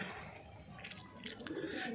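Pigeons in a home loft coo faintly in soft overlapping throaty calls, steady and somewhat distant, with a few light chirps mixed in.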